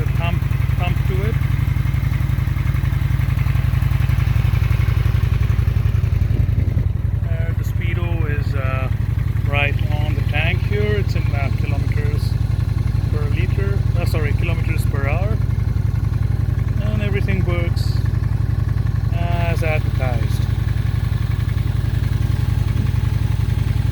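A stock Honda Shadow Aero VT750C twin-cylinder motorcycle with dual pipes idles close by in a steady, low thumping rumble throughout, while someone talks over it.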